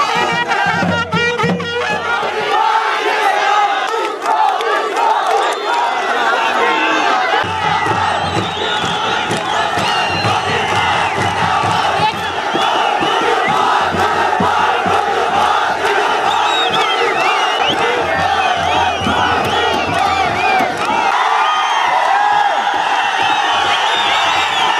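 Large political crowd at Bobby Pawar's election nomination rally in Uttarakhand, a loud continuous roar of chanting and cheering voices with rhythmic slogan-like surges, close and dense throughout.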